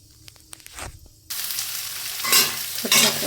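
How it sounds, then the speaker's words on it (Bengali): Chopped onions hit hot oil in a kadai with whole garam masala, a few quiet clicks giving way to a sudden loud, bright sizzle that swells and surges as they are stirred, close and alone without talk. "পেঁয়াজ কুচি দিয়ে দেবো,"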